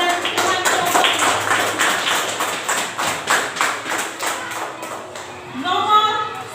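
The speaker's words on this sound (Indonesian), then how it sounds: "Sekarang tepuk tangan untuk Daniel dan teman kelompoknya." A classroom full of people claps steadily for several seconds, loud and dense, tapering off toward the end.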